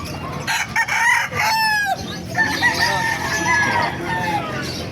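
A Peruvian-breed rooster crows loudly and close at a busy chicken market, one long rising crow with other fowl calls and crowd murmur behind it.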